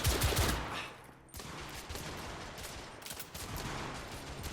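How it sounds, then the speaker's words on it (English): Bursts of gunfire in The Order: 1886 video game, rapid volleys and machine-gun rattle heard fairly quietly, with a brief lull before the shooting picks back up. "They're shooting at me!"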